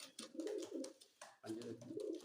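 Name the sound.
pigeon cooing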